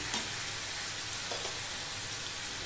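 Spiny gourd and potato fry together in a pan with a steady, dense sizzle and crackle throughout, close and continuous, with a couple of faint stirring knocks.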